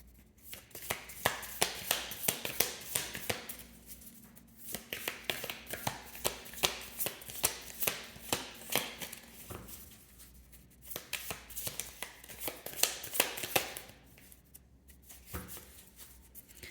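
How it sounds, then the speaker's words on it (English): Tarot cards being shuffled in repeated quick riffles and flicks, crisp and close, with brief pauses between bursts and no talking. "even as I'm trying to shuffle your cards"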